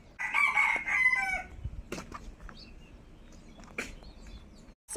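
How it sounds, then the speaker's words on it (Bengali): A rooster in a village gives a single loud, nearby crow lasting about a second, then faint clucks and rustles in the quiet outdoor background. "মোরগের ডাক, পাখির কিচিরমিচির আওয়াজ"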